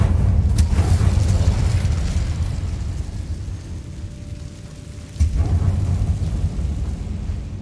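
Incendio fire spell cast in the Hogwarts Legacy video game, a dense low roaring burst that rumbles steadily, dips for a moment, then surges again at full strength.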